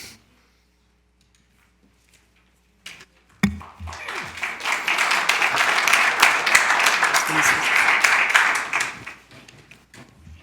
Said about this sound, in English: If everyone could hold their applause, that would be wonderful.